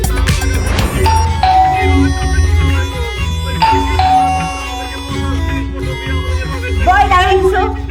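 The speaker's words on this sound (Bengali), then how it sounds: "এই যে কলিং বেল বাজতেছে দরজাটা খুলে দিতে পারবো না?" A doorbell chimes with clear ringing tones inside a home during a Bangladeshi television drama, repeating several times under loud overlapping talk.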